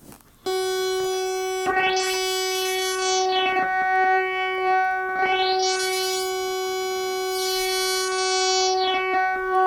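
A sustained Akai AX-60 analog synthesizer tone with a sweeping filter cutoff that opens and closes in broad, swooshing arcs, bright and droning over a steady pitch.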